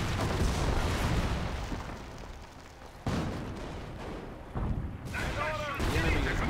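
Mortar shells burst in a Company of Heroes battle: several heavy, rumbling booms hit one after another, with a loud blast at the start and more explosions following amid continuous battlefield noise.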